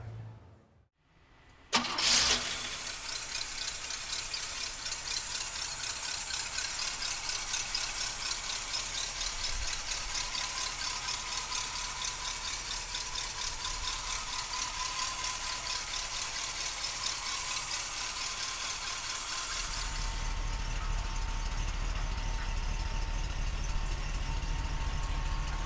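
A 1964 Cadillac DeVille convertible's engine cranks and catches around two seconds in, then settles into a steady, loud idle with a faint rattle that continues to the end; the low rumble strengthens near the close.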